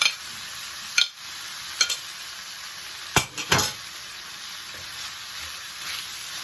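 Beef being stir-fried with noodles for chow mein sizzles steadily in a hot pan, broken by a few sharp metallic clinks and scrapes of a utensil against the pan. No voices.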